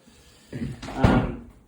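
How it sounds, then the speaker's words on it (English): A door being locked produces a single solid clunk with a short rattle and a rising bump of sound just before it. It is near and fairly quiet, with no talk. "Lock the door."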